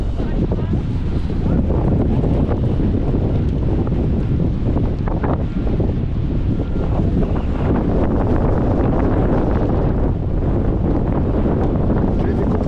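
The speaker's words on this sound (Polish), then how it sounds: "Wiatry." Strong wind buffeting a microphone outdoors at a public car auction, a loud continuous rumble and roar that fills the whole stretch, with voices blurred underneath.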